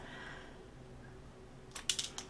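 Scissors snip off craft stems in a few quick, sharp clicks near the end, close and fairly quiet, following a stretch of soft room hush.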